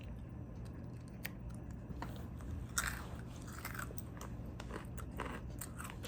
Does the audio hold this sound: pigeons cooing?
no